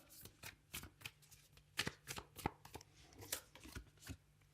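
Tarot cards are shuffled by hand at close range, with a run of crisp, irregular riffling bursts and soft slaps that repeat throughout without any talk.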